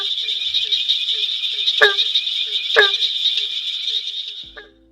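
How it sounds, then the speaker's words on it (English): Barking tree frogs call from a Florida night chorus, dense high-pitched trilling with a few sharp, louder barking notes, fading out at the end. "They even have a state amphibian called the barking tree frog."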